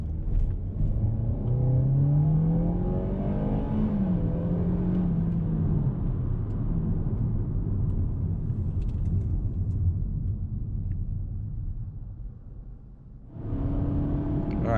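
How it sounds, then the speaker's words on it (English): A 2019 Lexus UX200 with a CVT accelerates onto a highway, heard from inside as a steady engine drone rising smoothly in pitch over road rumble, then easing off before a fresh surge near the end. "The CVT actually does a decent job getting this car up to speed."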